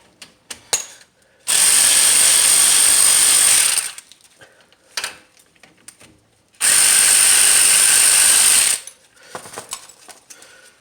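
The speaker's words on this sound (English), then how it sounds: "I'm going to use my ratchet just to speed it up." A ratchet on a 14mm socket spins off a brake caliper bolt on a 2017 Kia Sorento during a front brake pad job, two long, loud sustained bursts of rapid clicking separated by quieter handling noises.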